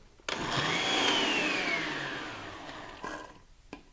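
A blender whirs up grapes for a green drink, spinning up loudly close by, holding a steady whine that slowly eases, then cutting off with a couple of clunks.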